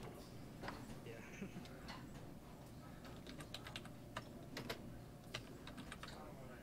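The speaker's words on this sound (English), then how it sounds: "I'll type it in." Rapid, uneven clatter of keys on a computer keyboard, close and fairly quiet, with irregular bursts of clicks over a soft background hum and faint voices.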